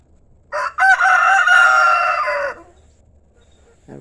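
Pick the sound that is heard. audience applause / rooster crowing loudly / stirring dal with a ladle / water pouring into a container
rooster crowing loudly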